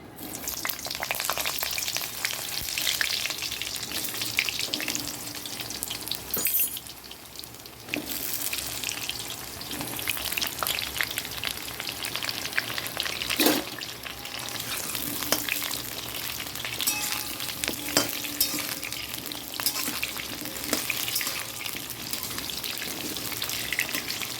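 Papaya pieces fry with cumin seeds in oil, a continuous sizzle and crackle with occasional stirring scrapes and a brief lull near the middle, moderately loud and with no talking.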